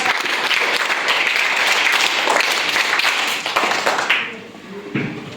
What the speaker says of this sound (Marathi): साठी सगळ्यांनी टाळ्या